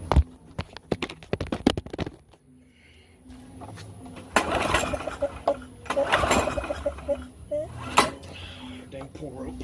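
Repeated pull-start attempts on a Craftsman 6.5 hp push mower that won't start after carb cleaner is sprayed in: sharp rope yanks and brief engine sputters in bursts, with a person talking between pulls.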